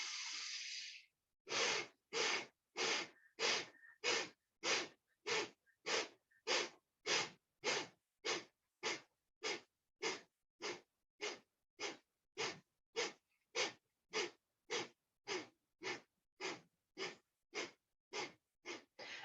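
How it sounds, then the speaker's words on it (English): Breath of fire yoga breathing, a long series of short forceful nasal exhales at a steady quick rhythm, close and clear, following one longer breath at the start. "we'll do a round of breath of fire"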